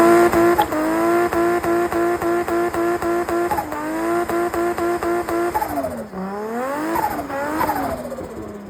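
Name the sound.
turbocharged Toyota IS200 engine running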